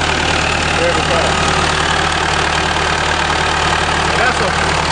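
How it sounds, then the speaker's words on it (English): A Massey Ferguson combine's 70 hp four-cylinder Perkins engine idles close by with a steady, loud, even drone and a slight knock, running without pause. "That's a 70 horse Perkins, four cylinder Perkins up there."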